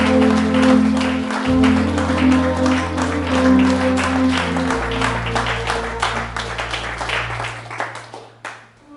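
Church congregation clapping steadily in praise of the Lord, a loud, dense stream of hand claps that continues over sustained music, thinning out toward the end.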